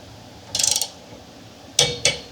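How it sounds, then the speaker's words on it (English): A ratcheting torque wrench tightens the bolts of a 2.5-inch anti-rattle hitch collar to 6 newton meters, giving a quick run of about half a dozen close clicks, then a pause and two louder separate clicks, alone and nearby. "6 Newton meters is at the almost bottom of our torque wrench here, but we'll see what it feels like."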